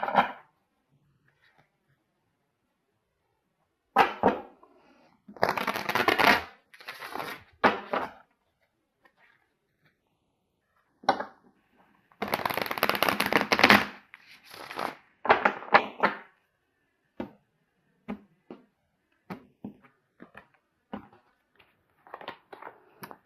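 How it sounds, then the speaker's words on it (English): Osho Zen tarot cards are shuffled close by in several separate riffling bursts, with loud papery flutters and then a run of small, sparse taps and slides. "I'm going to get a card here from my Osho Zen deck."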